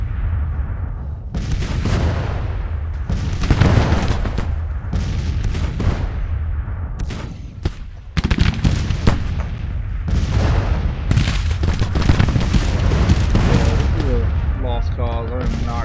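Artillery fire in the Grand Tactician: The Civil War video game, dense rolling booms and crackling volleys that pound continuously and loud, with players talking over the barrage throughout.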